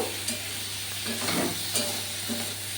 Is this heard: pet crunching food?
no